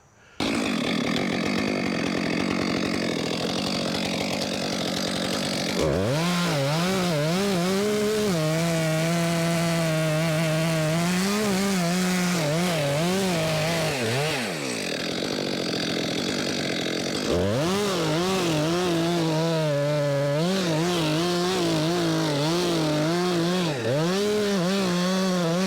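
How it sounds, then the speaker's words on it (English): Chainsaw plunge cutting through a big leaning tree, the engine roaring loud and close for the whole stretch, its pitch dipping and rising in repeated surges as the bar bites into the wood. "I'll plunge cut it through to my first cut so I can make a little hinge on it"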